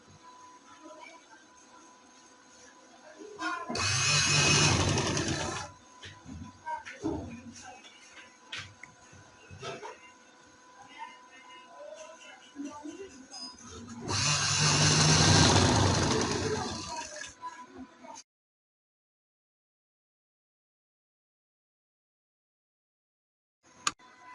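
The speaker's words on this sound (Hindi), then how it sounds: "पेपर पट्टी नजर आ रही है, उसके ऊपर हम सिलाई लगाएंगे।" A sewing machine stitches trouser fabric over a paper strip in two loud whirring bursts of a few seconds each, separated by quieter handling, then silence.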